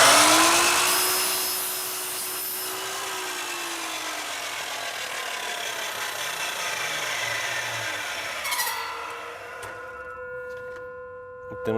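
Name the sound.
sawing a window screen frame profile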